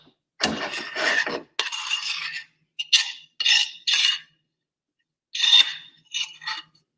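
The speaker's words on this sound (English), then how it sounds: "I'm just scraping everything out of the pan here" Chocolate mixture for vegan avocado fudge being scraped out of a pan, heard as several short scraping and clinking bursts of a utensil against the pan, close and fairly loud, with pauses between strokes and no talking.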